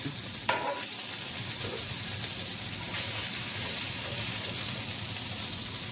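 A Monte Cristo sandwich sizzles in a pan with a steady, even hiss, and a single sharp clatter near the start marks the flip.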